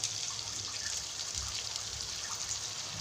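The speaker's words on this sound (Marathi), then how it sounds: "आता आपण यामध्ये आहे ना थोडंसं पाणी सोडू हे बघा" Water trickling into a pan of egg curry masala, a faint steady pour under a soft hiss, close by and without speech.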